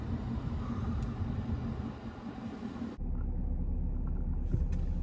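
A Ford pickup truck accelerates while towing a load of logs, giving a steady, loud engine and road rumble from close inside the cab, with the tone dropping to a deeper drone partway through.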